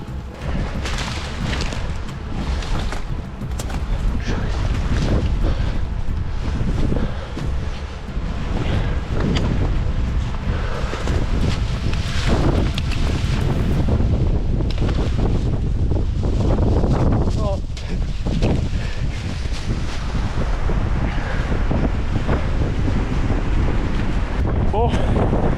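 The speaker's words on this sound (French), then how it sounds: "Il y a extrêmement beaucoup de vent." Strong storm wind roars through a forest and buffets the microphone with a constant loud rushing that lasts the whole stretch, while someone speaks at times underneath.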